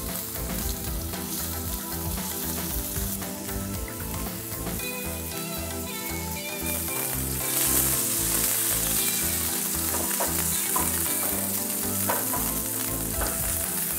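Bay scallops sear in hot oil in a hot pan, giving a loud, continuous crackling sizzle that swells a little as more scallops go in, with steady spitting throughout.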